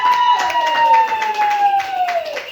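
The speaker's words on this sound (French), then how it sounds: "Let's clap for Jesus." A church congregation at an Easter service claps and cheers together, a steady spread of hands and voices under a sustained sung or shouted tone that slowly falls, with rhythmic bursts throughout.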